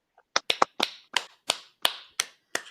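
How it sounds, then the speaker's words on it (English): A handful of people clap for two podcast hosts: about nine sharp, separate claps in an irregular burst, close and moderately loud, with no talking. "Can we get some claps for the boys?"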